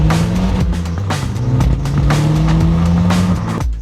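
A car drives fast behind a truck hauling Tesla Model Ys, its engine giving a loud, steady rising drone with a strong road and wind roar throughout, and no talking.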